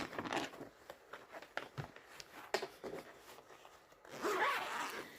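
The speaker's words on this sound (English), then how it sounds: "I'm sorry for the zippers" Several quick zipper pulls rasp open and shut on storage bags holding cross-stitch fabric projects, close to the microphone, with a longer run of zipping near the end.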